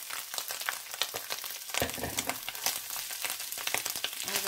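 Pickled mustard greens stir-fried in a pan for a Thai home-cooked meal, with a dense, close sizzle and crackle that swells as the greens are tossed and stirred.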